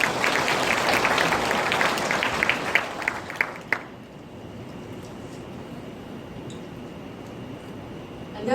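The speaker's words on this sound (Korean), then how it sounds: "큰 박수로 맞이해주세요" Audience applause welcoming a teacher to the stage at a high school admissions information session, a dense burst of clapping that fades out after about four seconds, leaving quiet room tone.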